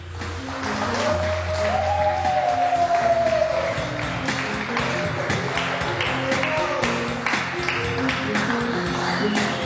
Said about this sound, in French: est-ce que vous pouvez faire un maximum d'applaudissements pour le prochain slammer qui va montrer sur scène?